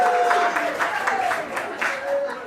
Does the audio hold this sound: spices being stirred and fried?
no